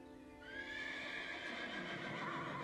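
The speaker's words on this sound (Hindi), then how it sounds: "अचानक एक जंगली घोड़ा बेकाबू हो गया" A wild horse turning unruly lets out one long, loud, shrill whinny that carries on and fades slightly, with faint hoof clops underneath.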